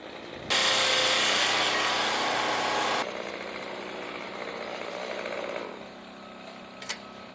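A large screw is driven into a wood board, a loud, steady grinding whir that runs for about two and a half seconds, then drops to a quieter rasp before fading, with a small tick near the end.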